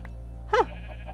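A single short, loud bleat from a Minecraft sheep in Sky Factory rises over a quiet steady game hum, followed by faint softer sounds; no talking.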